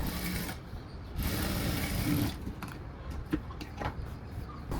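A sewing machine stitches a kurti top for a girl aged 10 to 11, a close, loud, steady whirring run that pauses briefly and then resumes with a few clicks, with no one speaking.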